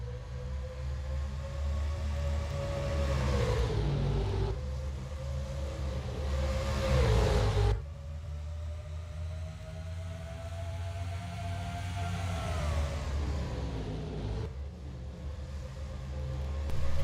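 NASCAR stock cars roar away at the green flag of the 2005 Pop Secret 400 at Rockingham, a dense, loud engine drone with rising pitch sweeps as the field accelerates, swelling and falling as packs pass.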